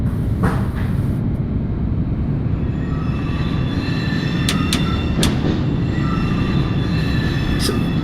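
A video game R62 subway train on the NYC line to New Lots Avenue rumbles steadily with heavy low-frequency noise, with brief high-pitched wheel squeals and clicks over the constant roar.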